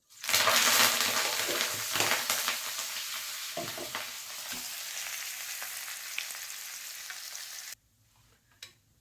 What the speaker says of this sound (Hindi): अब हम कड़ी पत्ता लेंगे, उसको भी इसके अंदर फ्राई कर देंगे